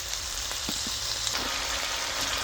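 Chicken and papaya stir-fry in a pan with dark soy sauce, giving a steady, close sizzle with a few soft scraping stirs of the utensil against the pan.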